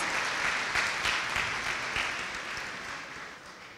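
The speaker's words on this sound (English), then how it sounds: "Let's give another round of applause" Audience applause at a university convocation, a dense steady clapping from a large crowd that fades slightly over a few seconds, with no talking.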